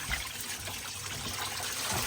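Water pours out of a cut pump line as a tank drains during a Flomix pump installation, a continuous soft trickling and gushing that stays steady and close with no talking.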